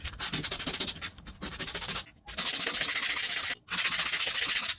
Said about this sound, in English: the first thing you want to do is scuff it out with some 100 grit sandpaper just to get out some of this heavier peeling